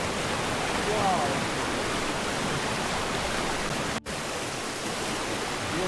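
A waterfall in a pine forest pours steadily, a dense, full rushing roar close by that never lets up, with one short exclaimed word from a man over it.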